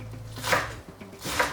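A knife chops an onion on a cutting board, with a couple of quick close cuts landing against the board over a low background hum, and no voices.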